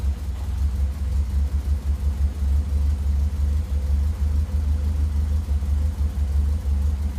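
A vintage Morris Minor 1000 with a carburetor engine idles steadily while warming up, a close, low, even rumble with a faint regular pulse and no voices.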